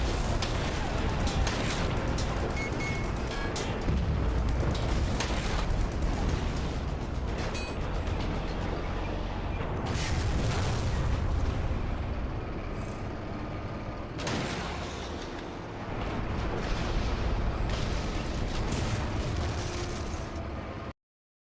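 Artillery strikes in the tank game War Thunder, Chi-Ha battle: dense, continuous rumbling blasts and booming impacts layered over one another, with louder bursts swelling up throughout amid constant battlefield noise.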